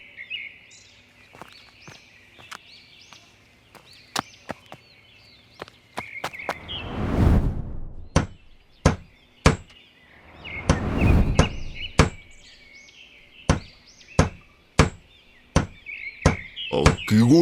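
Cartoon hammering on wood in a village yard, a series of sharp, evenly spaced knocks that pause briefly and then resume, with a soft rushing swell between the blows and no voices.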